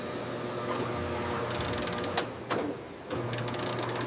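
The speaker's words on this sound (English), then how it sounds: "Computer-controlled cutters create precise jersey panels." A computer-controlled cutter slices football jersey panels in a factory, giving a steady, close mechanical whir with rapid rattling bursts and a few sharp clicks, with no voices.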